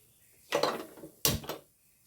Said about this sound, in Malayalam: ഇനി എനിക്കൊന്ന് ഗ്യാസ് ഓൺ ചെയ്യട്ടെ